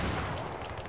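Grenade blast in the Battlefield 3 multiplayer shooter, a dense, rumbling burst of gunfire-like noise, fairly quiet and short, with no talking over it.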